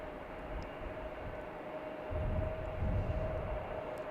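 A JetBlue airliner arriving from Nassau lands at Logan Airport at night. Its engines make a steady, distant rumble with a faint whine, swelling slightly toward the end.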